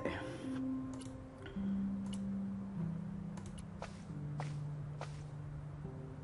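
Footsteps sound in the Broken Sword: Director's Cut adventure game, a handful of light, irregular taps layered over sustained game music tones.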